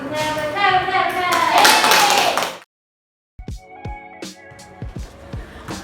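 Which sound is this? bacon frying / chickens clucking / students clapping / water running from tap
students clapping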